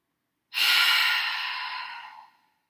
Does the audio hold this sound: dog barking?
no